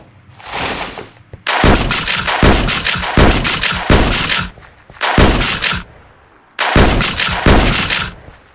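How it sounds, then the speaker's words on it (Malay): Gunfire in the horror video game Unit 208 Last Signal comes as loud, close automatic bursts, about five volleys of rapid shots separated by short pauses. "Ada bunyi senjata."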